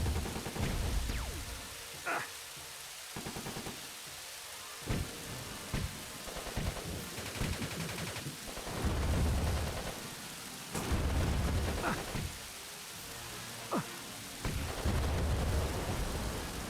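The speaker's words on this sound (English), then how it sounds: "The longer the level goes on, the more the rain just sounds like static." Constant hissing rain from the video game Superman: Shadow of Apokolips, a broad static-like wash that runs throughout, broken by scattered low thuds and short bursts.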